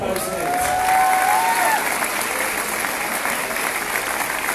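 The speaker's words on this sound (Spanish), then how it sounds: "Fuerte el aplauso para ustedes." Sustained applause from a large conference audience, dense and steady throughout, with a brief whistle-like tone rising early on.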